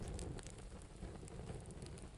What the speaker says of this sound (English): The sound of rain fades